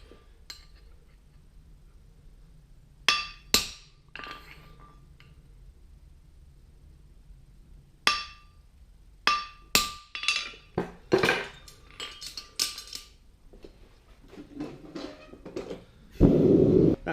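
Hammer blows on a fullered straight bar horseshoe at an anvil ring out as sharp metallic strikes, first in scattered pairs, then a quicker run of clinks over a quiet shop background.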